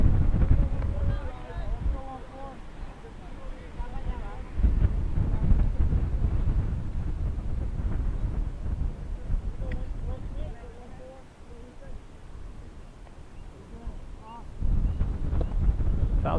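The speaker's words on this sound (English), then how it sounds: "the sun has dropped behind the clouds and the wind is picking up" Wind buffets the microphone at an outdoor baseball game. The steady gusty rumble swells and fades, with brief louder surges, and faint voices sit underneath.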